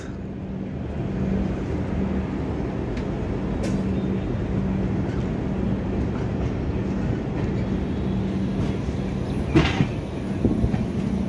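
The 12822 Puri–Shalimar Dhauli Express runs in 2024 with a continuous, loud rolling rumble and a faint rhythmic clatter of wheels on rail, steady for the whole stretch with a brief louder jolt near the end.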